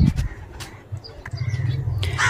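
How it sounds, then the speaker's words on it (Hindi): Domestic flying pigeon that landed at a house, giving low throaty coos close by in short repeated phrases, with faint chirps and a brief flutter in the background. "ये उड़ानबाजी का कबूतर है"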